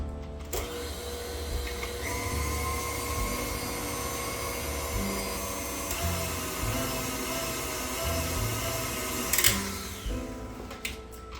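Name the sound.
mixer beating egg white protein powder into batter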